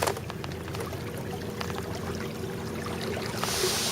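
A pontoon boat's engine runs steadily while the boat moves across the water, a constant low drone mixed with splashing and rushing water, close and continuous.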